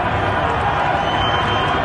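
A large protest crowd fills the streets of an Iranian city, heard from a rooftop above: a steady, dense roar of many voices, continuous and fairly loud with no single speaker standing out.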